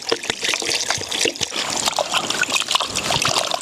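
Water is poured in a continuous splashing, trickling stream while a natu kodi chicken curry is prepared, close and fairly loud with no talk.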